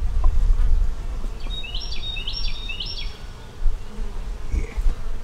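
Bees buzzing around a plastic water feeder outdoors, a steady near drone throughout with a few bird chirps in the background.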